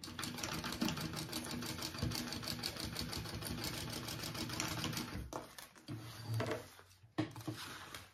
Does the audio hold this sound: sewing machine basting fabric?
yes